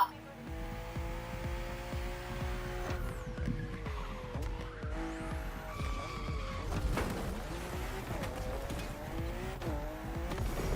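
BMW M2 and M4 race cars run a narrow track full of sharp bends, engines revving and shifting continuously with tire squeal, loud and close throughout, with a voice talking over them.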